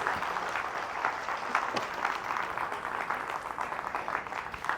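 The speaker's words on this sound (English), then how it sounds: "Give Donna a huge round of applause." Sustained audience applause for a show participant at a live mind-reading stage show, steady dense clapping throughout with a faint crowd murmur.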